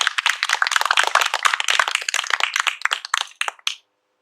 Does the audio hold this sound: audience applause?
yes